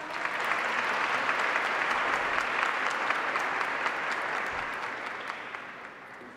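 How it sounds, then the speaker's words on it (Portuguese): Audience at a parliamentary front event applauding a woman called up to the front, sustained crowd clapping, full and even, slowly tapering off near the end with no speech over it. "Uma salva de palmas para ela."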